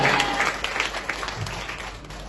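A church congregation applauds during a Sunday worship service, a wash of clapping that slowly fades, with a voice speaking faintly underneath.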